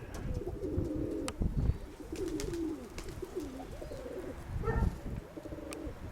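Pigeons coo repeatedly in low, throaty phrases, close by, with faint rustling and ambient noise around them.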